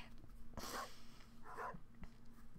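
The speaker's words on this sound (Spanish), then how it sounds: "¿Ves a este perro?" A cartoonish dog sound effect from the farming video game Stardew Valley gives two short yelps or whimpers, faint over a low, steady game-audio hum.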